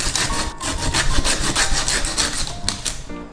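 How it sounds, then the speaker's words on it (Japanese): A fish saw rasps through the head of a giant moray eel in steady back-and-forth strokes, a dense woody grinding that runs continuously at close range with no talking. "さてノコギリで切っていきます。"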